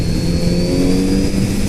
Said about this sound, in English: Really smooth engine.